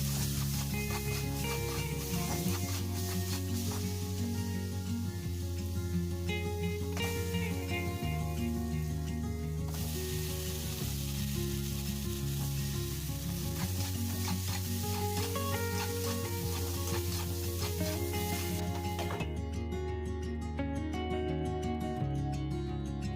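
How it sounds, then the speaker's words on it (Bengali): Potatoes and pointed gourd frying in hot oil in a wok, a steady dense sizzle running without pause, with occasional stirring scrapes and background music underneath. "কড়াইতে তেল দিয়ে নুন হলুদ দিয়ে আলু, কেটে রাখা আলু পটলগুলো ভেজে নেব"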